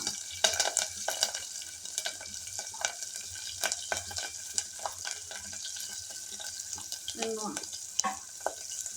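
Drumstick leaves, green chillies and asafoetida go into hot oil for tempering, producing a constant crackling sizzle broken by frequent sharp stirring clicks and scrapes, with a brief watery splash near the end.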